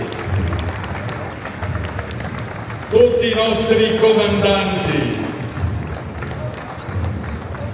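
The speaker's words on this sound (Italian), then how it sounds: "E applaudiamo con tanto rispetto i sottufficiali" An audience applauds at an Alpini military parade, the steady clapping rising and holding under an announcer's amplified voice as martial music plays.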